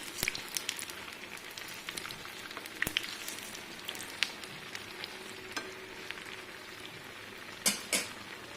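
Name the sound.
banana malpua frying on medium flame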